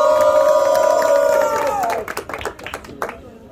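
Crowd at a rap battle, Batalha do Lago in Foz do Iguaçu, cheers and claps for rapper Nanda: a loud sustained roar with a high tonal shout for nearly two seconds, then scattered claps and whoops fading out.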